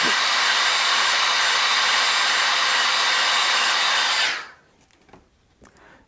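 A hair dryer blows steadily and loudly up close over airbrushed paint for about four seconds, then cuts off, leaving a few faint handling clicks in near silence.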